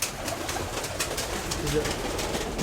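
A flock of male pigeons cooing softly nearby, low murmuring coos scattered across a few seconds under a faint hiss of outdoor noise, with a person talking quietly alongside.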